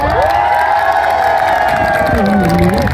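An audience at a Filipino community show in Northern Ireland cheers for a contestant, a loud, dense burst of crowd shouting and whooping with applause mixed in throughout.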